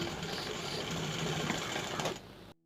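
Sewing machine stitching a baby frock, a continuous close whirring hum with fast rhythmic needle chatter that runs steadily for about two seconds before stopping abruptly.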